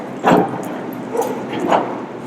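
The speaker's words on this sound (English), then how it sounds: "Check, because Lexington's barking." A dog barks three times nearby, short sharp woofs spaced apart over a quiet indoor background.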